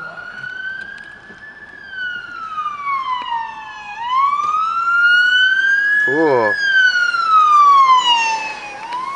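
A Ford Explorer fire chief vehicle responding in Longueuil sounds its siren close by, a loud wail rising and falling with a brief rapid yelp burst midway, while people talk briefly inside a car.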